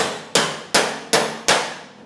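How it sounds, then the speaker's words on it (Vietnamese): A hammer or pliers strikes the stiff valve handle of an air conditioner, five sharp metallic knocks in an even rhythm, each ringing briefly before the next, close and loud with no speech. "Thì mình dùng một cái kềm hay là một cái búa gì đó mình gõ nó lên."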